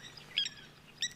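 Someone mimics the call of a Hadeda ibis with two short, loud, harsh squawks about half a second apart, heard alone against a quiet background.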